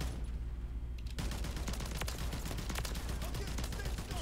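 Rapid gunfire from the DTIR 30-06 rifle in a video game, a dense burst of loud shots starting abruptly about a second in and continuing to the end over a constant low rumble.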